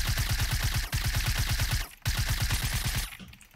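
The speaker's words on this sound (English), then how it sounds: "So if I start shooting at you," Rapid automatic gunfire from shooting in Fortnite Battle Royale, a loud, steady stream of shots rattling for about two seconds, a brief pause, then another burst that tapers off near the end.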